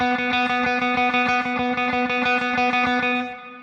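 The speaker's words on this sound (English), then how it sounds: "Tremolo picking is a great exercise to work on your picking hand." Fast tremolo picking on a distorted electric guitar, a rapid even stream of down-up strokes repeating the same note, loud and alone, with a quick fade at the end.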